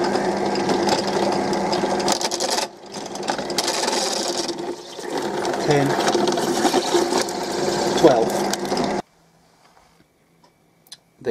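A coin held in a drill or press is bored through with a cutter to make a 12 mm hole for a coin ring; a steady loud machine whir with rhythmic ticking runs for about nine seconds, then stops, leaving near silence.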